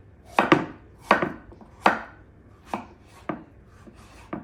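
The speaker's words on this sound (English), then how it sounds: "then we chop long ways down" A knife chops papaya lengthwise by hand on a cutting board, giving sharp, separate knocks in a loose rhythm of about eight strikes, close and clear with no talking.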